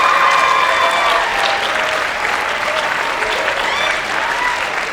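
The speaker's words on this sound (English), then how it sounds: "So I want to give them a round of applause." An audience at a school drama production gives a sustained round of applause, dense steady clapping filling the whole stretch with faint crowd murmur underneath.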